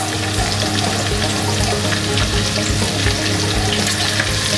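Egg Manchurian ingredients sauté in hot sunflower oil with a loud, continuous, close-up sizzle and crackle that holds steady from start to finish.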